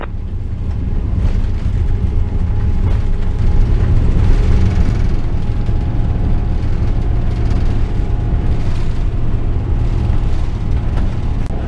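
A British Airways Boeing 777-300ER taking off from runway 27 at San Diego gives a loud, steady, broadband roar that swells slightly and holds for the whole stretch, with no voices.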